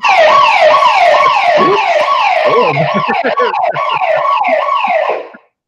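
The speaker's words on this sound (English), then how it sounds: "she set the alarm on me while I was home" A home security alarm sounds at home, loud and close, with a rapidly repeating electronic wail that sweeps in pitch steadily for about five seconds before cutting off abruptly.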